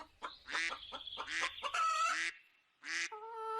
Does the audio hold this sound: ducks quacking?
yes